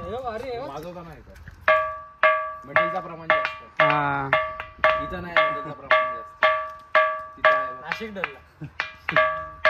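A stone at Khanderi Fort struck again and again, each blow ringing out with a clear tone like a temple bell that fades quickly; a voice speaks briefly at the start.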